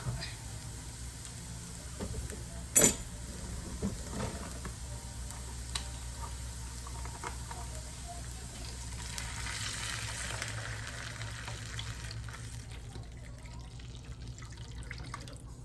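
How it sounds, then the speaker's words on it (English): Vegetable stock is poured into a hot pan for a vegan meatless chicken and dressing, making a splash and a steady soft sizzle and bubbling close by, with a brief clatter early on. "So now I'm going to add the vegetable stock."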